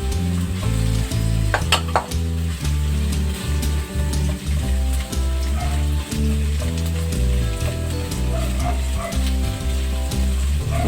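Onions sautéing in a pan after garlic for salmon sinigang in miso, a continuous loud sizzle with frequent spatula clinks and scrapes against the pan, no talking.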